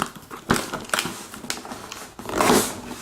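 A cardboard shipping box holding a MacBook Air is torn open, with several short ripping and crinkling bursts of tape and cardboard close by, quiet between tugs.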